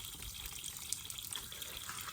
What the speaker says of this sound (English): let all the water drain out the bottom